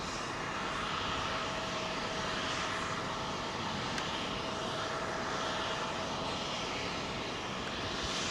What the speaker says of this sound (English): she's a completely unmarked 777 freighter